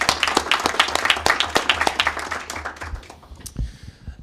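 Audience applause at a Maryland State Board of Education meeting, a burst of individual hand claps that thins out and fades to a few scattered claps, with a brief murmur of voices near the end.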